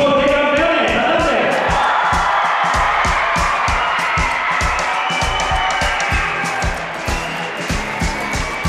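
A packed sports pavilion greets the champion teams with loud, continuous crowd noise, rhythmic clapping in a steady beat and cheering, sustained at full volume throughout.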